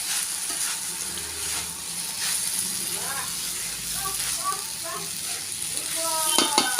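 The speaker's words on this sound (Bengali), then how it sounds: "ভেজে রাখা আলুগুলোও দিয়ে দেব, দিয়ে একটু নাড়াচাড়া করে নেব।" Fried potatoes get stirred into a banana flower (mocha) curry in a pan, giving a soft continuous sizzle with utensil scrapes and clinks building toward the end.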